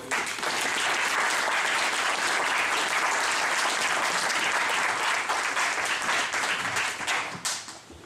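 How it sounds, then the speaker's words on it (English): Wedding guests applaud the bride at a reception, a dense, sustained burst of many hands clapping close by for about seven seconds before tapering off. "let's all have another applause for Nicola"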